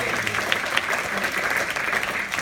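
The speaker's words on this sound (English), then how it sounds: "Let's give one more round of applause to Leo as he makes his way up to the stage." Sustained audience applause fills the room at a steady, fairly loud level, dense clapping from many hands with no voices standing out, as someone walks up to a stage.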